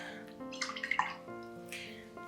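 Water splashes and drips briefly as a watercolor brush pen is dipped and wetted, a short cluster of close, light liquid sounds over a soft background.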